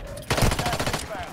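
Rapid automatic gunfire from the mobile video game Warzone Mobile, a quick burst of closely spaced shots lasting under a second, with faint game sounds before and after.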